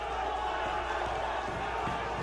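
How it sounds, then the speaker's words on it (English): Crowd cheering and roaring at a UFC fight event, a steady dense wash of many voices held throughout without breaks. "You see, everybody's cheering."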